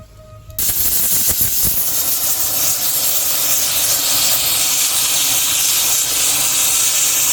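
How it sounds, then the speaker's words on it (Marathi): A pressure cooker of dal on a wood-fired clay stove gives a loud, sustained steam whistle-hiss that starts abruptly after a short quiet moment and carries on steadily to the end. "डाळीवर 3 शिट्ट्या झाल्यात."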